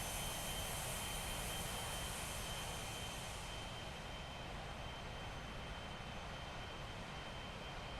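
Honda Jet engine in the Microsoft Flight Simulator 2024 game, a steady broad jet roar with a faint high whine, held evenly and slightly duller in the second half, with no talking.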